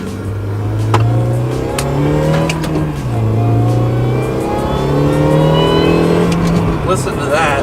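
A supercharged MINI accelerating, its high supercharger whine rising and falling with engine revs over a steady engine drone, heard from inside the car while a person talks.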